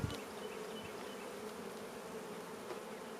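Honey bees from a weak hive drone in a steady, close buzzing swarm that holds throughout, with a brief louder burst at the very start.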